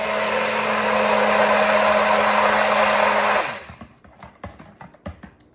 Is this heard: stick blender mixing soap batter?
yes